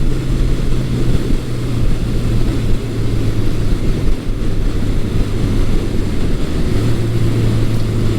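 A 1982 Suzuki GS750E motorcycle idles after carburetor work, a steady close engine rumble with a low, even hum that holds for the whole stretch without any talk.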